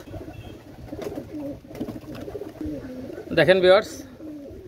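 Pigeons coo in a short burst near the end, a bubbling call rising over steady Bengali talk from a man showing birds for sale, with the coos close and clearly louder than the voice.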